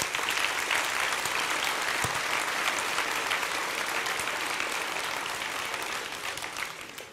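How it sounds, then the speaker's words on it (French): A hall audience at a French town's 2019 New Year greetings ceremony applauds a guest seated in the room; sustained, even clapping fills the whole stretch and thins slightly at the end. "Je vous demande de l'applaudir"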